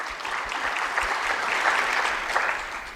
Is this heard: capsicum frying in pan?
no